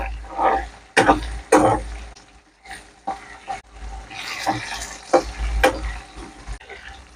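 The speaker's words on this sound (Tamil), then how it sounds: "இந்த பட்டை மிளகாவும் இந்த ஆயிலோட நல்லா பொரிஞ்சு வரட்டும்." Dried red chillies frying in hot oil in a pan for vatha kulambu give off an uneven sizzle and crackle, broken by sharp clatters and stirring knocks that come and go, close by with no talk.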